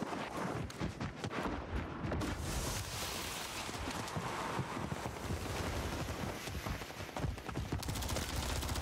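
Dense gunfire rattles in the Call of Duty Warzone battle royale game, with rapid bursts and continuous shots crowding together under a constant roar.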